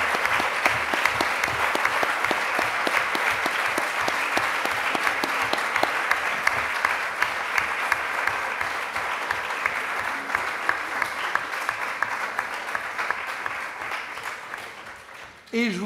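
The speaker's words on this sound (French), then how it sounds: "qu'on vous applaudisse" An audience at a French youth event applauds a group standing up, sustained close clapping with sharp individual claps standing out, fading toward the end before a brief sound.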